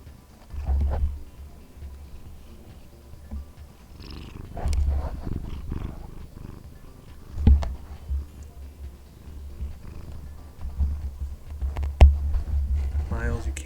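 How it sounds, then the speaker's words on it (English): A house cat purrs in a steady, low rumble close by, broken by soft thumps and rustles of movement, with a person talking over it at times. "And then he relaxes and he starts purring."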